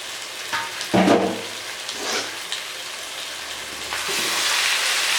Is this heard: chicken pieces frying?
yes